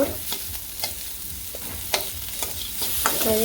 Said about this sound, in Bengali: তো মশলা দিয়ে একটু কষে নিব